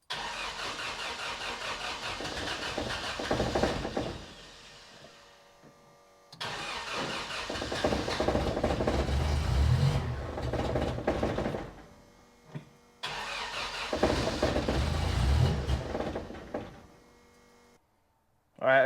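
A built engine in a 1979 Toyota Corolla, fitted with a new mass airflow sensor, cranks and fires up three times, running roughly for a few seconds each before dying away, loud and close.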